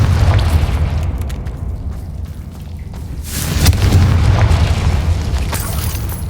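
A Confringo fire spell from the Hogwarts Legacy video game goes off with a deep rumbling boom, a sustained low blast that swells again midway through, loud and close with no talk over it.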